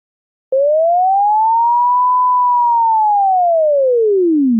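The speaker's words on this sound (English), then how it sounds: "I didn't make any other changes other than swapping out an actual music file for a sine wave generator." A pure sine wave test tone from an Unreal Engine MetaSound generator starts abruptly after a brief silence, then glides up in pitch and slowly falls again as one continuous loud tone.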